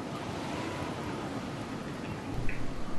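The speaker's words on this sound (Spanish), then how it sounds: "Uy, qué aguacero, men." Heavy rain downpour in the video game Fortnite, a dense steady hiss of falling water filling the scene at even loudness, swelling slightly near the end, with no voices over it.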